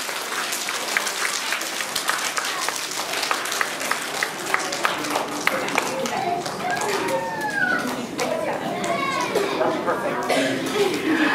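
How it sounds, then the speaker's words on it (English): An audience of children at a school assembly claps steadily in a dense, sustained round of applause, with scattered voices and chatter mixed in throughout. "let's give them a big round of applause"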